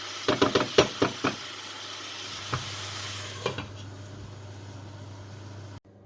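Minced meat börek filling cooking in a pan over low heat, a burst of scraping and knocking stir strokes at the start over a steady, gentle sizzle, which continues alone until it cuts off sharply near the end.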